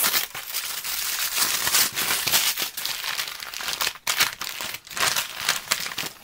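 Aluminum foil wrapped around a styrofoam box crinkles and crumples steadily at close range, busy and continuous with a few brief pauses, and no voices.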